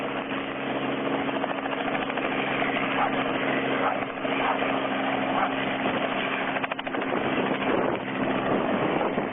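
A helicopter taking off in a city street, a loud steady engine and rotor roar with a throbbing beat and a slight dip in pitch, heard close and continuous.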